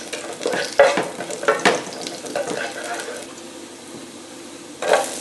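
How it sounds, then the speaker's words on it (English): Chopped garlic sautéing in sesame oil for pancit: soft sizzle under repeated stirring and light scrapes of a utensil on a pan, with a few louder clatters, fairly close. "Add the remaining chopped garlic. Saute for about a minute."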